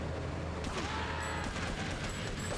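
Pistol shots in Grand Theft Auto III come as a burst of sharp reports over a dense, noisy game soundtrack, closely spaced within a couple of seconds.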